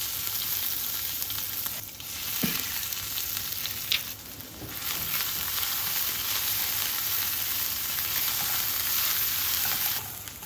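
Green masala with mustard seeds sizzling in oil over low heat, a dense, continuous close crackle with occasional stirring knocks and no voices.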